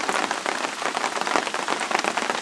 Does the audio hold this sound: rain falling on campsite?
yes